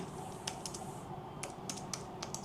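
Typing on a computer keyboard: a near run of light key clicks in short irregular bursts over a faint steady hum, with no voices.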